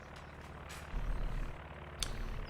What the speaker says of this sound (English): Becomes a recon plane